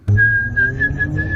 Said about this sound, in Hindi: सीटी बजाते हुए, गाना गुनगुनाते हुए